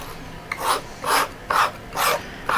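A palette knife scrapes and pushes oil paint across a canvas while painting brass and apples, giving four rhythmic rasping strokes about half a second apart, close and clear with no voices.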